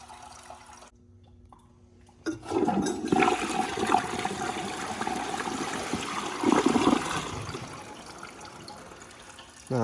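2012 VitrA Evergreen toilet: after a quiet start, the flush rushes in loudly and the tank refills with a sustained churning gush of water, nearby and continuous to the end.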